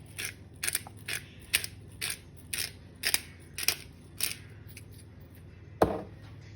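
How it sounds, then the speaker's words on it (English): A pepper mill grinds fresh pepper in a run of about a dozen quick, crisp, rhythmic cracking twists, close and fairly soft, ending with a single sharper knock. "Add some fresh cut pepper."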